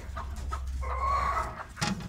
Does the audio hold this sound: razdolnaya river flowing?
no